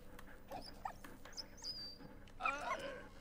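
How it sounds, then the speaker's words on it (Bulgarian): A dog in the video game Valiant Hearts whimpers and yips in short scattered bursts, ending in a louder run of whining barks over a faint game background hum. "О, някаква куча ме намери."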